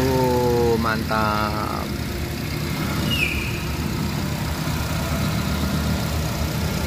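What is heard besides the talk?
used car engine idling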